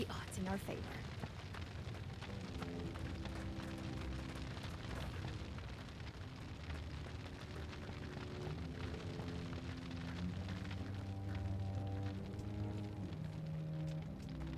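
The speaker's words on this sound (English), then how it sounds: "if we give it a couple of seconds, that fire should dissipate" Fire crackles and hisses steadily after an explosion in the video game Lamplighters League, a continuous rain-like noise under tonal background music.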